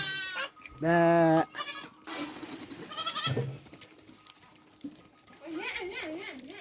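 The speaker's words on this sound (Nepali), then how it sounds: "बाख्राहरू अब गोठमा आउँदैछन् कोही यता जाँदैछन्" Several goats returning home from the forest bleat loudly and close by, one long wavering call followed by shorter bleats, with other animal and background sounds between.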